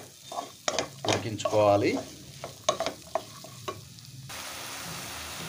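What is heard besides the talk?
stirring pointed gourd (parwal) frying in a pan on low flame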